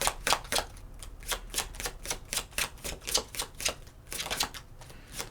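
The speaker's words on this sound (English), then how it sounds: "these cards do not want to shuffle" Tarot cards being shuffled by hand in a quiet room, a quick series of crisp riffling bursts in an uneven rhythm, close and fairly soft, with no voices.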